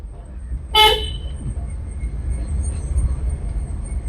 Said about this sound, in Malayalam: ഹോൺ അടിക്കണേ